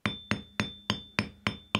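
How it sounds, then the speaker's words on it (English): Seven light, evenly spaced hammer taps on wire, flattening it into a Christmas-tree jewellery piece, each a sharp close metallic tick with a short ring, in a steady rhythm. "Now you don't have to hammer very hard, it's just light taps."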